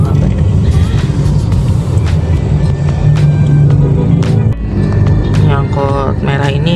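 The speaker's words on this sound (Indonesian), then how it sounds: "Angkot merah ini ugal-ugalan nih ya." A red angkot minibus weaves recklessly through busy Jakarta traffic, its engine and surrounding road noise loud and steady throughout, with people talking over the din and a sharp dip in the noise midway.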